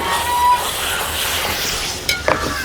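Fish masala with turmeric and chilli being stirred in a hot pan, a steady close sizzle with scraping strokes and a couple of sharper clinks near the end.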